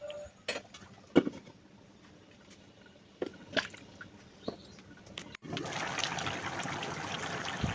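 Water is poured into a pot of beef and sweet pumpkin curry after the meat has been sautéed in oil, sounding as faint scattered drips and clinks first, then a louder steady pour near the end.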